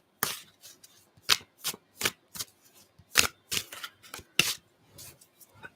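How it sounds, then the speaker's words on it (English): Tarot cards being shuffled by hand, a quiet close series of crisp riffling bursts in an irregular rhythm with short pauses between, heard alone with no talking. "I will shuffle them a bit more."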